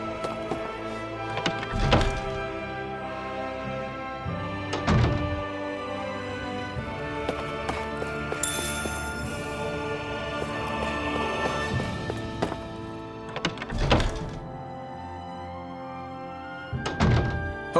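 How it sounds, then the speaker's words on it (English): Hammers bang in the video game Tales of Arise, in a snowy setting, with heavy thunks landing every few seconds over a dense bed of game music and ambience. "I always loved the sound of hammers banging away"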